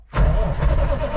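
An old 1980 picker truck engine cranks and catches abruptly, a sudden loud, near burst of low engine roar that holds steady, without talk.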